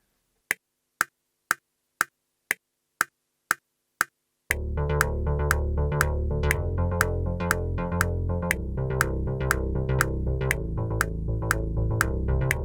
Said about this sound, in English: Alright, so we have a nice bass going on there